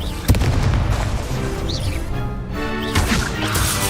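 A Confringo spell explosion in the Hogwarts Legacy video game bursts with a sharp, loud blast near the start, followed by rumbling game effects and a second surge of impact noise later on.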